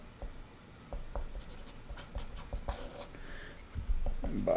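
Pen scratching across paper in short intermittent strokes, close and fairly quiet, with no talking over it.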